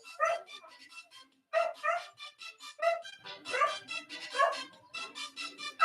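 A dog barks and yips in quick repeated bursts, fairly close and loud, with a short pause before the barking resumes.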